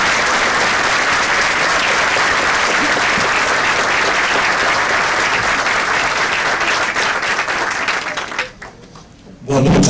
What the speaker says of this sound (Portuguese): Ciro Gomes, uma salva de palmas ao nosso convidado.